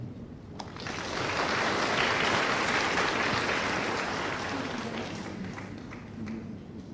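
Sustained audience applause, a dense wash of many hands clapping that swells, holds steady and slowly tapers, with no talking over it.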